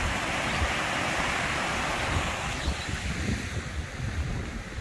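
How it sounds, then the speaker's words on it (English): Rain coming down quite heavily by the River Coly in Colyton, Devon, a dense, even hiss with low rumbling wind-like noise throughout, close to the microphone and with no voices. "it is raining today"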